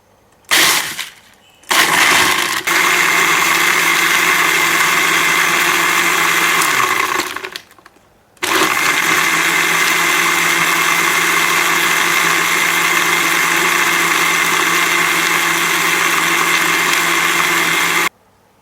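An electric blender whirs loud and close, churning a Lotus milkshake with vanilla ice cream. It starts in a short burst, runs steadily, stops briefly, then runs again for about ten seconds before cutting off.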